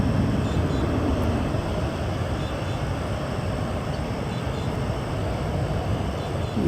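A DC-10 airliner at Austin-Bergstrom International Airport gives off a steady, loud broadband roar that holds unbroken through the whole stretch, with no pauses or distinct events.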